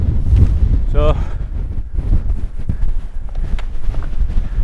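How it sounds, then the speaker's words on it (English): Strong gusting wind buffets the microphone in a steady rumble on a 940-metre mountain summit of Beinn a Chroin in the Crianlarich Hills, with a brief spoken word near the start. "very windy at the top"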